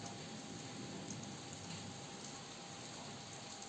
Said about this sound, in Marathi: जोरदार पावसामुळे घरामध्ये पाणी शिरलंय।